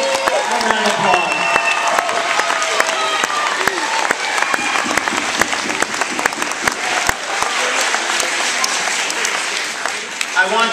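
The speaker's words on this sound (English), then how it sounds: "let's give all of our performers, all of our students a nice round of applause." A school audience applauds loudly and continuously for student performers after a Bye Bye Birdie musical, dense clapping filling the whole stretch with a few faint cheers mixed in.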